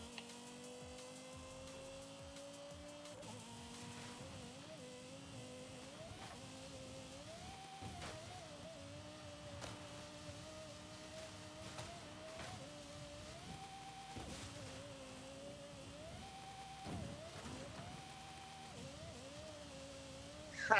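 A car engine revs high in a racing video game, its synthetic, saw-like whine repeatedly stepping up in pitch through the gears, fairly faint over background hum.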